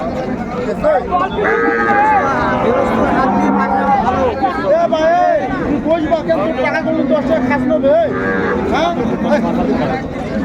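Cows with calves low repeatedly amid a busy crowd of chattering voices at close range at a cattle market in Ambari, Dinajpur, several moos rising over the noisy babble.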